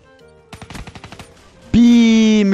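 Rapid gunfire from Black Ops 3, a burst of about eight sharp close shots followed by a loud sustained tonal blast, with no talk over it.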